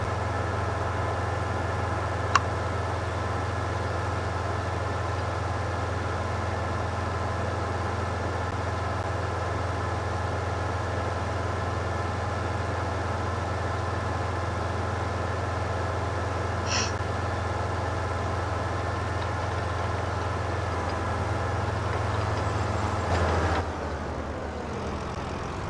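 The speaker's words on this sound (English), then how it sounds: "I'm going to go ahead and get this tractor down to the store" A tractor engine drones steadily and loudly with a low, constant hum while driving, and the sound holds unchanged until it cuts off near the end.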